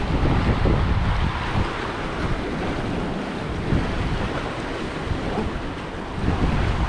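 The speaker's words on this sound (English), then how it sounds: "get the camera down out of the wind here a little bit" Wind buffets the microphone over steady surf on Payoon Beach in Ban Chang, Rayong, Thailand at sunrise, a loud, continuous wash of noise with no talking.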